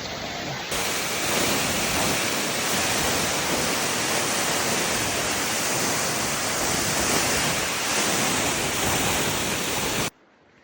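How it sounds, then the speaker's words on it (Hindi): Hundru waterfall near Ranchi in Jharkhand, running with a low water flow, gives a steady, dense rushing roar that fills about ten seconds before cutting off abruptly. "और रांची के पास था ये हुंदरू वाटरफॉल"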